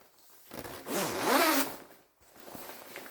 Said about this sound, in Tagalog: papakita ko sa inyo yung zipper